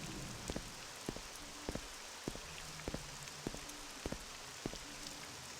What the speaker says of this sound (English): Now you can just enjoy the sounds of the rain